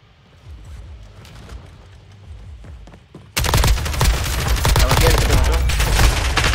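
Gunfire crackles in Call of Duty Warzone: quieter scattered shots come first, then a sudden loud, dense fusillade of rapid bursts keeps going to the end.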